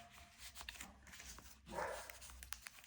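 A dog barks at a neighbour's dog, several faint, distant barks and yips spread unevenly through quiet room noise, with no talking.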